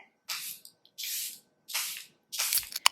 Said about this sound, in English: I'm gonna grab the Airbrush Spray by Tilbury just to lock everything in.